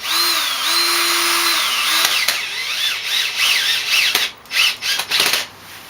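Screws being driven into pre-drilled holes with a screwdriver, heard as a loud, steady motor whine that rises and falls, then breaks into several short bursts near the end.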